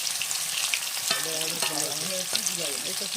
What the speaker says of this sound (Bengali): কচুটা ভেজে রান্না করছি, ভেজে রান্না করলে সেটা ভালো টেস্ট হয়।